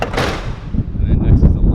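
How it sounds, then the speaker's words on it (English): A US Army vehicle's hood drops shut during an annual inspection, giving a loud, broadband slam near the start. Heavy low rumbling and clatter follow, with some talk-like noise in the background. "And then what I do after that is I drop the hood."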